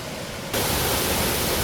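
A steady, loud rush of falling water starts abruptly and continues as a dense, even roar from a nearby artificial waterfall beneath a Y-shaped suspension bridge.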